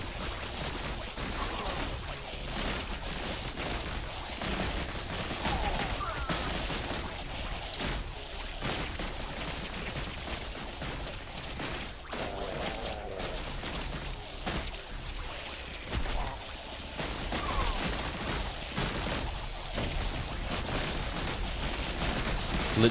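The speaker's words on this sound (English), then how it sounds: "More artillery." Dense, continuous barrage of artillery fire from the insect strategy game Buggos 2, with overlapping booms and crackling impacts rolling on without pause at a fairly steady, moderate level throughout.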